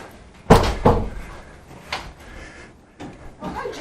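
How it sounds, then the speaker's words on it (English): Front door of a cartoon studio office opening and closing, two heavy thuds close together followed by softer knocks and rattles of the door, near and fairly loud, with no talking. "This is the front door."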